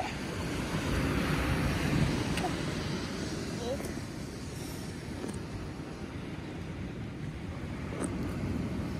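Steady wash of surf and wind noise at a beach, a continuous broad rumble with no distinct breaking wave, faint voices occasionally in the background.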